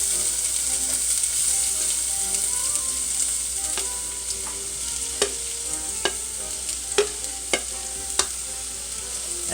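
Celery and other vegetables hit hot oil in a pot and sizzle in a steady, even hiss, punctuated by scattered sharp pops and crackles that grow more frequent toward the end.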